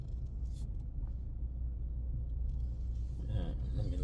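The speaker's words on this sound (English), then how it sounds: "Let me let this truck pass." A truck passing on the road makes a steady low rumble that swells slightly toward the end, heard nearby outdoors with no talking.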